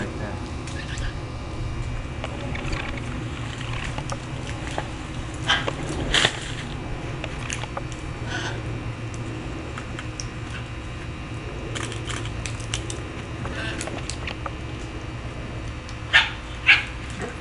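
Wild macaws in Florida give scattered, dog-like squawks and yelps, a few sharp calls standing out over a steady outdoor background, with occasional quiet talk nearby.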